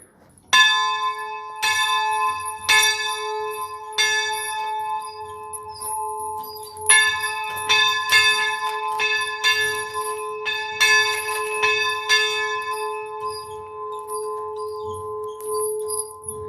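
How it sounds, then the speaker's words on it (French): A bell by a small grotto is rung by tugging its chain, in the traditional way. It gives a long run of loud, close, repeated clangs whose bright ringing tones overlap and linger, with no talk. "c'est la tradition, on peut pas passer là sans carillonner"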